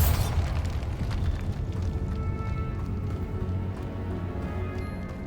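The Bombarda spell in Hogwarts Legacy bursts with a loud, close explosion at the very start, then a deep rumbling roar that slowly fades over several seconds, with no voices over it.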